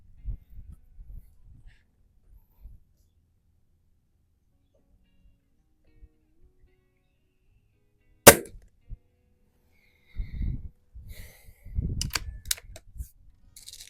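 A Stoeger X5 .177 spring-piston air rifle fires once at a range, a single sharp crack standing out after near silence, followed by faint clicks and handling noises of cocking and reloading.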